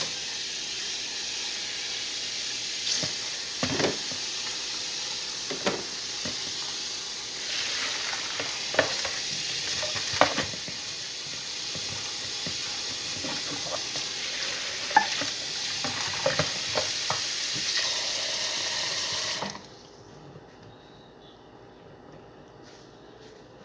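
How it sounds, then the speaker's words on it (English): Food is stirred in a pan at a home stove, with repeated scraping and stirring strokes over a steady sizzling hiss that cuts out abruptly near the end. "I'm gonna mix this, let it sit for about 10 minutes"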